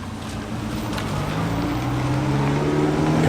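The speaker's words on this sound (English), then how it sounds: "You can hear the whine of gears behind me as well." A classic car passing at a transport festival in Audlem gives off a rising gear whine over a low engine rumble. The whine climbs in pitch and grows steadily louder as the car draws near.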